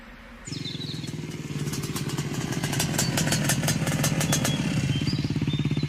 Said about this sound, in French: Il est à moto sur un terrain accidenté.